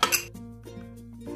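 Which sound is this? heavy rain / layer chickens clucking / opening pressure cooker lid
opening pressure cooker lid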